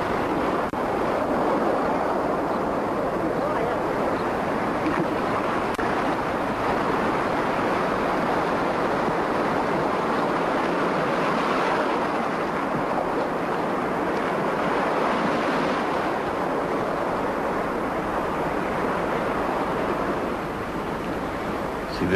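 Ocean surf rolls in a continuous broad wash, loud and steady with slow swells in intensity, while wind buffets the microphone throughout and no voices are heard.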